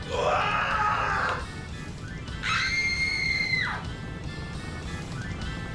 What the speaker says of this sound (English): there's lots of screaming and yelling